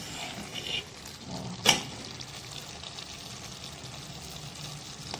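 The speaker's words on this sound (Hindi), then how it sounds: "जी देखें ये भुन रहा है अच्छे से" Meat with turnip frying in a pan, a soft steady sizzle with a brief clatter of stirring partway through, fairly quiet and close, with no talk.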